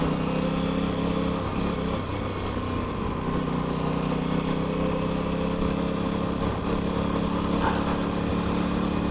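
Aprilia RS660 sport motorcycle being ridden on the road, its engine droning steadily with a constant mid-pitched hum and a layer of wind rush, heard from the rider's position without any talk.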